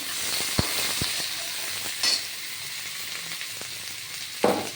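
Chopped ash gourd pieces fry in a hot pan for a shukto, giving a steady close sizzle broken by a few sharp clicks and bursts of spatter, with no talking.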